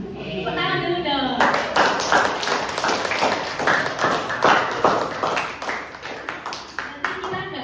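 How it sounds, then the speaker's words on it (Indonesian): A school audience of vocational high school students at an anti-bullying and drug awareness event claps in a burst of rhythmic, fairly close hand claps lasting several seconds, with voices chattering and calling over it. "Tepuk tangan dulu dong."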